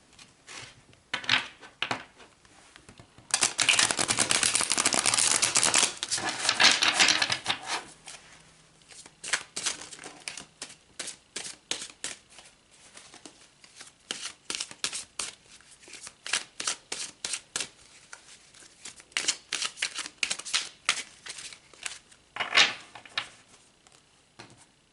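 A tarot deck being shuffled and cards pulled, a loud riffling burst followed by many close, crisp card snaps and slides in an uneven rhythm, with no voice.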